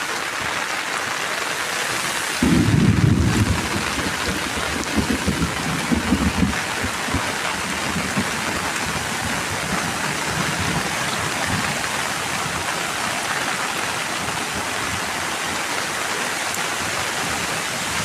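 Heavy rain pours while floodwater rushes across a farm field, a steady, loud, dense wash of water with a brief stronger surge early on and no voices.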